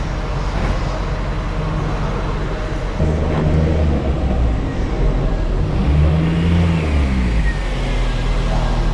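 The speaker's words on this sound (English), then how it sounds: "the Civic's coming in, so we'll just follow this Civic through." A Honda Civic rolls into an indoor car auction hall, its engine a steady low drone that swells louder and revs up around the midpoint and again near the end, with a reverberant hall hum underneath.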